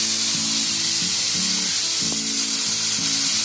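Steady, loud sizzling of food frying in ghee in a pan, a continuous hiss throughout with faint clinks in the background.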